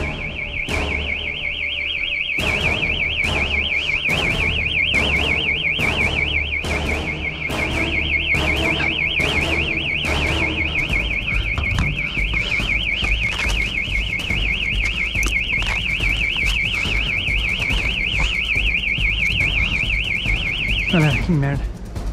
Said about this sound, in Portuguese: não quer funcionar meu alarme